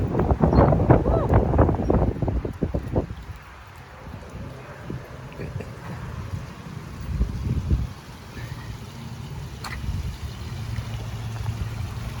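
Outdoor breeze on a sunny day gusts across a microphone, first as heavy low rumbling buffets, then as a softer, steadier rushing that rises and falls.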